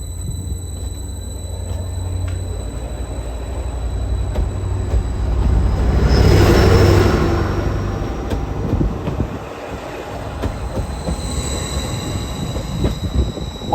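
Train leaving Berney Arms, a remote rural railway station in England: loud rumbling and clattering wheels with high squeals swell to a peak midway and then slowly fade, mixed with gusty wind.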